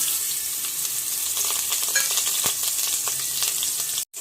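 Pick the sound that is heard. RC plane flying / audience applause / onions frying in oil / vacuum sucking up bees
onions frying in oil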